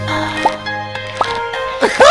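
Stardew Valley watering sound effects: short bubbly plopping drips in a quick irregular series over light game music, with a voice briefly talking over it.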